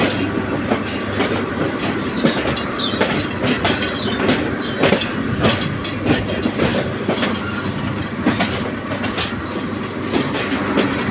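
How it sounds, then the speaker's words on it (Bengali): A train winding into Kamalapur station rumbles along the rails with steady clickety-clack and occasional metallic squeals, close and continuous throughout. "গাড়িটি কীভাবে আঁকা বাঁকা হয়ে কিন্তু কমলাপুরে ঢুকতেছে।"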